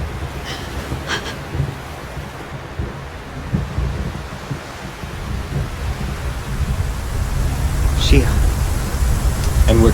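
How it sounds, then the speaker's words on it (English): Thunder rumbles low and heavy in the Xenosaga Episode 1 video game, building to a stronger roll toward the end amid rain-like noise, with a few sharp brief sounds layered over it. "I just really hate thunder."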